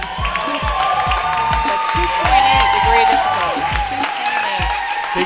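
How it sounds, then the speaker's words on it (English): Crowd at a university swim meet cheers and claps after a forward three-and-a-half somersault tuck dive, a loud, sustained roar with whoops echoing through an indoor natatorium. Sharp rhythmic thumps run beneath it throughout. "Big cheer goes up after that dive."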